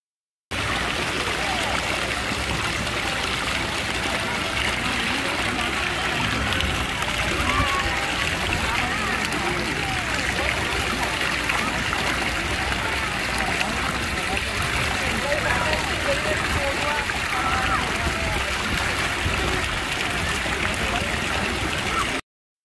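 Water splashing and sloshing as a little girl plays at a water park, steady and busy throughout with voices chattering over it.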